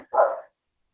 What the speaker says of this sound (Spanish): justo el perrito está bochando